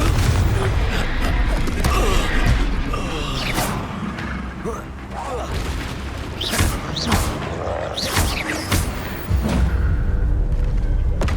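Spell combat in the game Hogwarts Legacy, with a Confringo spell blasting amid repeated booms, thuds and crackling impacts, loud and dense, mixed with shouted incantations and voices.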